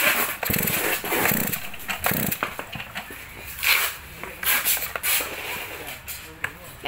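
A STIHL 024 chainsaw is pull-started in a busy yard: a few quick rasping cord pulls and brief engine catches sound amid people talking nearby.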